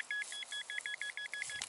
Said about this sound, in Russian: Еще пищит, смотри, он пищит там.